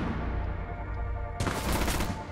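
Automatic gunfire crackles through a Rainbow Six Siege match, with dense rapid shots that swell into a louder, harsher burst partway through.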